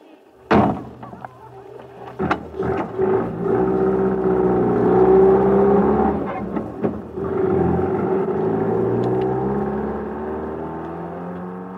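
A car door slams shut, then an engine starts and revs as the car pulls away, its steady drone holding close and loud before easing slightly near the end.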